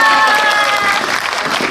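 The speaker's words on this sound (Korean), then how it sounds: "여러분들 큰 박수 부탁드릴게요" A theatre audience at a film guest event applauds and cheers as the director and actors arrive on stage, a dense wash of clapping from a large crowd with a faint tonal hum beneath.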